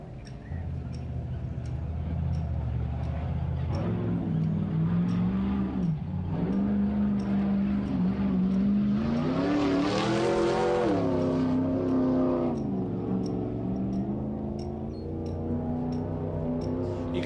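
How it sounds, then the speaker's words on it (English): Off-road race cars at the King of the Hammers Jeep Proving Grounds short course, engines roaring and revving loudly and continuously as they drop off a final edge into the desert, pitch rising and falling with passes. "You can certainly hear the cars when they come out of that Jeep Proving Grounds, drop off that final edge and back into the desert."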